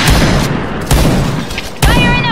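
Three loud, close bursts of gunfire from the online shooter Point Blank, evenly spaced about a second apart, each a sharp crack with a short rumbling tail.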